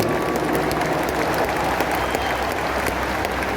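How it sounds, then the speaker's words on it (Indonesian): Dense, loud applause from a large outdoor crowd at an Indonesian open-air campaign rally on the final campaign day, a continuous even roar of many hands with no break. "Tepuk tangan buat semua yang hadir di sini."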